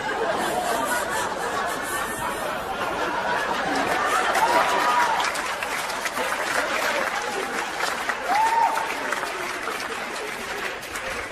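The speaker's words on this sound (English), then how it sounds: "An applause break over my infidelity." An audience at a comedy show breaks into steady applause mixed with chuckles and crowd chatter, loud and continuous throughout.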